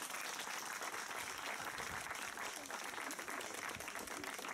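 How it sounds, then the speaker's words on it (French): Villagers at an outdoor bread festival in Valabres applaud Gégène, the local baker, with a continuous patter of clapping that sounds somewhat distant and quiet. "Je remercie aussi, qui fait un gros effort, notre ami Gégène, le boulanger, qu'il faut vraiment applaudir"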